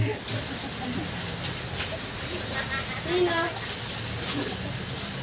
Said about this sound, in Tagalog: Ito po yung bukal na tinatawag nila. Tatlong butas na napakalakas ng tubig.